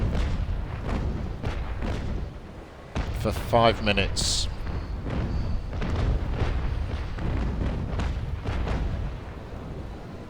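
Ship cannons fire during a naval port battle in a sailing warship video game, with repeated deep booms rolling one after another and someone talking over them.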